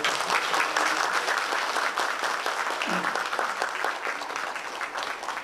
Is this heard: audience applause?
yes